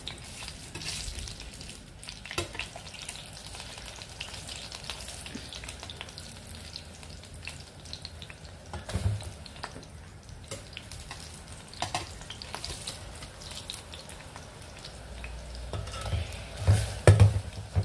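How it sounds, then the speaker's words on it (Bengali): A large rohu fish head simmers and bubbles in a pan, giving a steady soft sizzle and faint stirring scrapes, fairly close, with a few louder pops near the end and no talking. "মাছের মাথা এখনো ফুটছে।"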